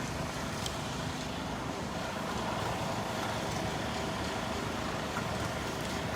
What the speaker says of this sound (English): pretend there's not the sound of a diesel engine in the background